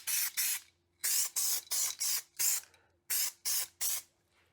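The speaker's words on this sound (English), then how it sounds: "Hit that with another coat of epoxy." Epoxy primer is sprayed onto a VW Mk1 Caddy pickup body panel during rust repair, in about nine short, close, hissing bursts separated by brief pauses.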